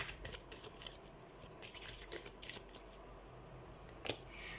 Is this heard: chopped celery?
no